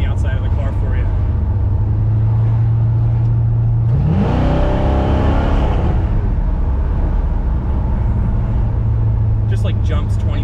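A 700 hp 1971 Corvette with a 454 V8, heard from inside the car as a steady engine drone that rises sharply into a loud rev and acceleration surge, then settles back into continuous running.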